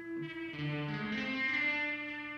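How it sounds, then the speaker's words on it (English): A guitar chord swells with dense gated reverb from a Behringer DR600 digital reverb that holds steady, then stops abruptly instead of fading naturally. "There's no way to control the gating on the reverb."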